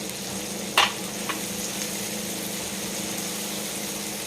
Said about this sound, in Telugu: మగ్గిన తర్వాత పచ్చిమిరపకాయలు వేసుకుందాం